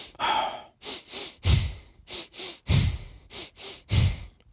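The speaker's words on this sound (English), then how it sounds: "Double inhale on the right, exhale on the left." Rhythmic hiking breathing on a mountain trail, a double inhale followed by an exhale repeating in a steady cycle, close and fairly loud with no talking.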